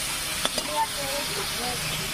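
Spices with panch phoron and bay leaf are sautéed in mustard oil, a soft steady sizzle with a couple of brief clicks of a utensil near the start, faint and close.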